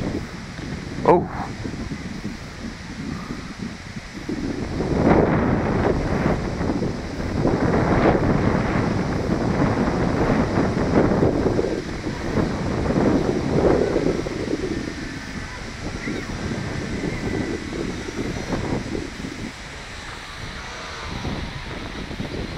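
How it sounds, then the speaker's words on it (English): Strong gusts buffet the microphone outdoors, a loud continuous roar of wind noise surging and easing throughout, with a brief sharp knock near the start; a voice is heard speaking in between the gusts. "Oh, it's so windy."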